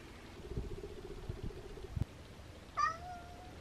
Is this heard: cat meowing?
yes